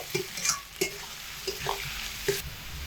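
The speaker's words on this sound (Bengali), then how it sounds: "আলু কষানোর সময় একটু লঙ্কার গুঁড়ো দিয়ে দিচ্ছি অল্প করে" Potatoes sautéing with chili powder in a pan give a soft sizzle broken by several sharp spatula scrapes and clinks at irregular intervals, close and alone with no voice.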